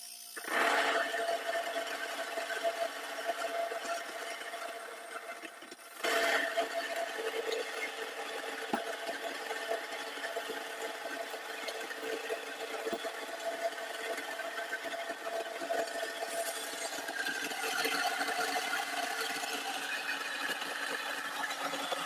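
Electric grain mill grinding wheat berries into fresh whole wheat flour, a loud steady mechanical whir that runs continuously, briefly dipping once before resuming at full strength.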